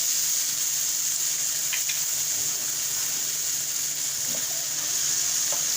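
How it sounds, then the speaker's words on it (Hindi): Tomato cubes fry in a pan with chillies, a steady even hiss of sizzling oil with a few faint clinks and light stirring sounds, close and unbroken without speech. "मिक्स कर देंगे। फ्राई करेंगे इनको।"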